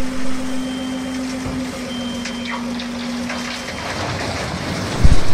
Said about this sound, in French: Camion benne.